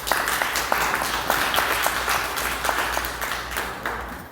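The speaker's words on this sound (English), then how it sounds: "Clap your hand, please." An audience at the Liberian Unity Festival breaks into sustained applause, dense overlapping claps rising and falling evenly across the whole stretch at moderate distance.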